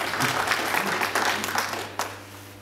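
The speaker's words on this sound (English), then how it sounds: "let's give him a round of applause" A live audience at a talk-show style dinner event in Johannesburg claps steadily, a dense patter of hands that tapers off toward the end, with a faint hum underneath.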